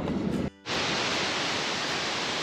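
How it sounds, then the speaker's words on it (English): Heavy, steady roar of a waterfall on a river swollen by record rainfall, a dense full-band rush heard close up, briefly cut out for an instant near the start before the torrent resumes unbroken. "See if we can get some footage of this waterfall."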